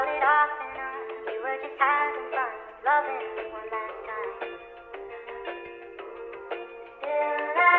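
Filtered trap beat with heavy reverb and a low-pass effect, melodic synth chords and plucked notes repeating in a steady rhythm, with no bass or drums coming through.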